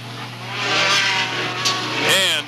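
Mini stock race cars roar away at the green flag start of a day race at Oak Level Raceway in 1995, engines revving and climbing in pitch, loud and close, with a sharp rise near the end.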